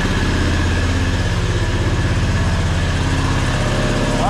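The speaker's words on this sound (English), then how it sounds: "let off the throttle and we're gonna see if she idles at all" A 670cc Predator engine idling in an E-Z-GO TXT golf cart, a loud, steady close-up putter with a constant rumbling throb and no talk over it.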